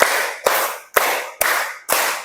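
Four loud, close hand claps in a steady even rhythm, roughly every half second, during a counted clapping exercise, each a sharp snap followed by a short echoing decay.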